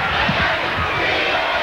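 A packed basketball arena crowd at an NCAA tournament first-round game between Maryland and Gonzaga roars in a steady, loud wash of cheering and shouting, with a few louder voices rising out of the din.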